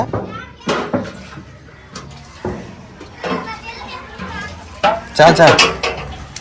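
Upma is cooked in pots in a home kitchen during a festival gathering, with scattered metallic clanks and stirring sounds beneath lively children's voices and chatter nearby.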